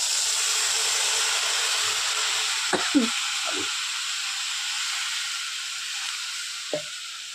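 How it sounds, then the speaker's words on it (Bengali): Spiced masala for a bhola fish curry sizzles and hisses steadily in hot oil as water is poured in, with a few sharp spattering bursts and pan clatters over the constant fry. "এবার জল ঢেলে দেবো, কারণ সাইড দিয়ে তেলও ছেড়ে দিয়েছে মশলা থেকে"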